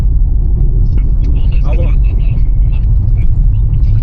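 A car rolling over cobblestones, heard from inside as a loud, constant low rumble and vibration, with a voice talking over it.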